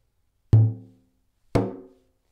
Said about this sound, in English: Now, if I hold my fingers here,